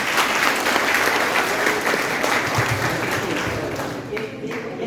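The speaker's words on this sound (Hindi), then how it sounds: "Please ताली बजाइए भाई के लिए।" Audience of students applauding a fellow student during a live session at MITS Gwalior, a loud, continuous wash of many hands clapping that holds steady for several seconds before tapering slightly, with voices mixed in.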